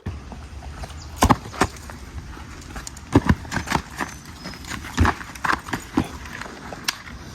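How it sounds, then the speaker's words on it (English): Horses' hooves clip-clop on hard ground in an irregular, uneven pattern of sharp knocks as the animals approach, loud and close, with a brief whinny-like sound among them. "Hark! I hear horses!"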